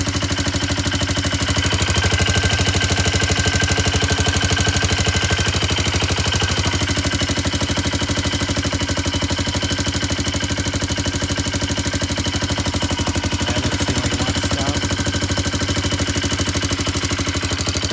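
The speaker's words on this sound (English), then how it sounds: "Definitely not the quietest engine, but I didn't expect it to be." A Polaris Sportsman 500 ATV engine idles steadily and loudly up close, with a rough, chattering, knocking exhaust note suggesting an exhaust leak, continuous throughout.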